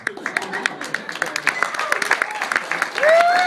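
An audience at a comedy show claps in a loose, uneven burst, individual claps standing out over scattered voices and crowd noise, with a voice rising near the end.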